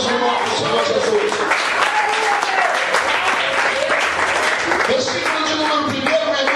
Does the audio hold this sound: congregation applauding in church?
yes